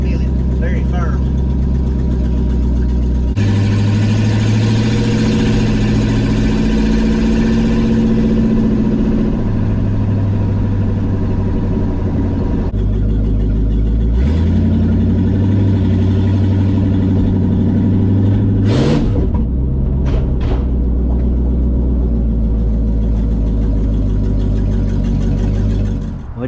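A 1976 Chevy Luv pickup engine with a shift kit and repaired brakes, heard from inside the cab on a test drive; a steady mid-pitched drone that rises and falls with gear changes, running under continuous conversation.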